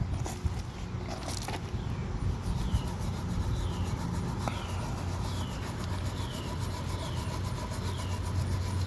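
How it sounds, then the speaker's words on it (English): Scrub brush working over degreased engine parts, a continuous close scratchy scrubbing with short repeated strokes, steady and fairly loud throughout. "Now grab that scrub brush."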